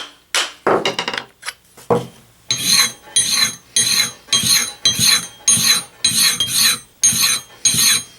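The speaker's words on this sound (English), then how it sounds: "So just got to keep grinding a little bit farther and we'll see what we got." The blade of a Japanese sori kanna compass plane is ground by hand: a few scraping strokes, then about ten regular rasping back-and-forth passes, loud and close, with no talk.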